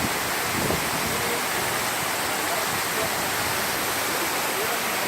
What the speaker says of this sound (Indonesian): Air terjun Bantimuruna Galang.